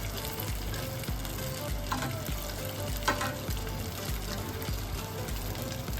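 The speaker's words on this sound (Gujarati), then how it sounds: "મીડિયમ તાપે જ આપણે તળવાની છે, નથી હાઈ ફ્લેમ કે નથી ધીમા તાપે નથી શેકવાની આપણે." Crispy potato-and-cheese-stuffed bread rolls deep-fry in oil over medium heat, giving a dense, even crackling sizzle with occasional soft knocks, close and without speech.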